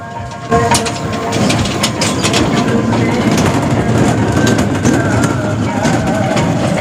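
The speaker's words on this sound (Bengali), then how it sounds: "এখানে বিনোদনের জন্য রয়েছে টয় ট্রেন, যা ঢেউসাগরের পুরো পার্কটিতে ঘুরে দেখাবে" A toy train carrying visitors around Dheu Sagar amusement park in New Digha rumbles steadily nearby, with a dense mechanical clatter and scattered rhythmic clicks over a continuous low drone throughout.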